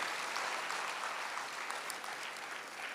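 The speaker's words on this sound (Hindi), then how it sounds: "आप सभी के लिए सब जोरदार तालियां सभी के लिए" An audience claps steadily for pilgrims at a religious gathering, a dense, even wash of many hands throughout, fairly close and unbroken, with no talk over it.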